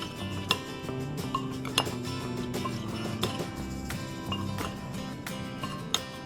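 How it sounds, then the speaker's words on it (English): Sugar-free Jell-O mixture is stirred in a container with a utensil, steady scraping and soft clinks against the sides, with a few sharper taps close by, all under a faint music bed. "I'm going to stir that up again."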